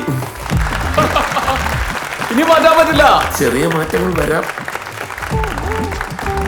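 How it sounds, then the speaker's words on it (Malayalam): Audience applause at a stage event for a Malayalam film, a sustained wash of clapping that rises and falls beneath someone speaking loudly over a microphone. "നല്ലൊരു കൈയടി."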